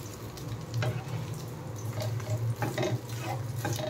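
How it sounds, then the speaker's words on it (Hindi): An egg and a paratha fry together in a pan as the paratha is slowly turned, making a soft, continuous sizzle with light scraping and bubbling sounds. "परोठा धीरे धीरे ऐसा घुमा के अंडा भी फ्राई हो जाएगा अच्छे से"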